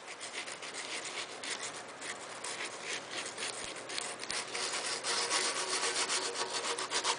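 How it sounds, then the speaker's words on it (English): A small scrap of sandpaper rubs back and forth by hand over a metal bread box in a rapid, steady scratching rhythm, close and continuous, with no talking. "let's get another little piece of sandpaper here. There we are. And just sand away."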